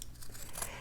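Scissors snip through fabric stiffened with dried glue, making a short, faint crunchy cut close by with no voices.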